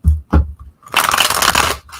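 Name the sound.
tarot cards being shuffled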